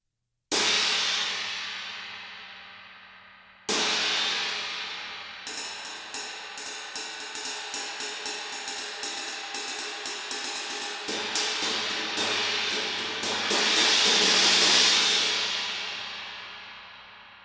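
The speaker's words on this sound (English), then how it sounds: "This is my trash crash" Hammered trash crash cymbal on a drum kit: two single loud crashes ring and decay, then a rapid run of repeated strikes builds into a bright, trashy wash that swells and slowly fades out, close and alone.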